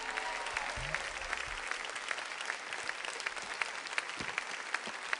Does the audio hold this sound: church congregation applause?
yes